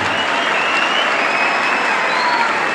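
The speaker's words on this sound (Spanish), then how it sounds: "regálele fuerte el aplauso" A fairground crowd at a bull-riding tournament applauds a rider after his bull ride. The clapping is loud, dense and continuous throughout, with faint whistle-like tones on top.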